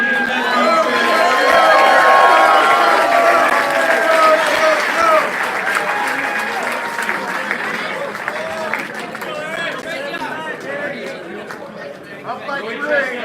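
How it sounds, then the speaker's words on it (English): A crowd at a Meatball Madness event cheers and chatters with mixed clapping, a loud swell in the first few seconds that slowly fades into scattered voices and shouts, with a voice calling out over it. "Let's cheer it on."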